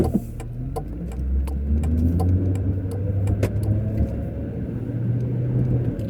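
A 1997 Lincoln Mark VIII LSC drives along a road, heard from inside the car. A steady low engine and road rumble carries throughout, broken by scattered clicks and knocks from bumps.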